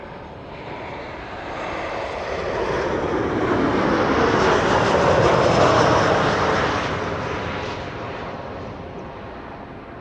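Boeing 737 airliner at Amsterdam Schiphol, a broad jet roar that swells to a peak midway as it passes nearby, then fades, with no talk over it.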